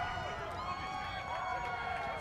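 A stadium crowd at a Sacramento professional rugby match keeps up a steady, loud roar through the whole stretch, with voices mixed into the broad wash of noise.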